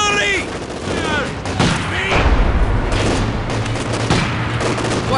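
Gunfire and booming artillery in the Company of Heroes war game, set at Stalingrad: dense machine-gun bursts and heavy thuds roll on continuously, loud and close, with a shouted soldier voice at the start.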